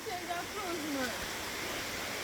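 The RiverRock Waterfall pours steadily as a broad, continuous rush of water, with faint voices and a bird call mixed into the roar.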